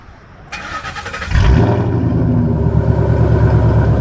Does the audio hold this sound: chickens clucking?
no